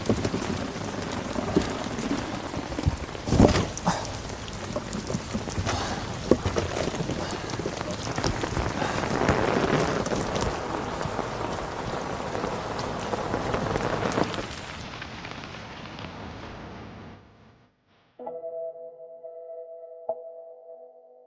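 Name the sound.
rain falling at night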